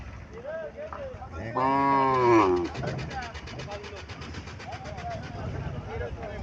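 A cow at a busy Qurbani cattle market in Chauddagram, Cumilla lets out one loud, drawn-out moo at close range, set against steady crowd chatter and people talking nearby.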